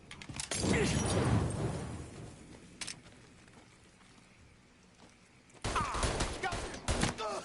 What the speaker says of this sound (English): I'm throwing a Molotov!